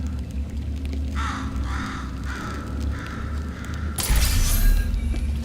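A crow in an abandoned, disused part of the Portal 2 facility caws four times at a steady pace, moderately close, above a low mechanical hum, followed by a louder burst of noise.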